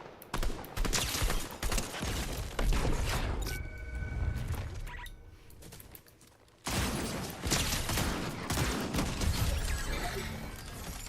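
Gunfire in Fortnite comes as bursts of sharp shots and crashing impacts spread across the clip, loud and close, with a brief quieter lull before the shooting picks back up.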